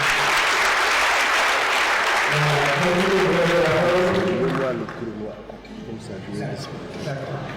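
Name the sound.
applause for a professor before her talk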